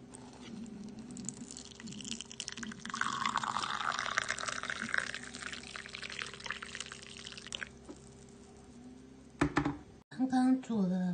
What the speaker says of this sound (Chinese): 放好，加上热开水。